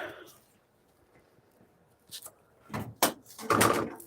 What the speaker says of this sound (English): Just knocked my level right off my locker.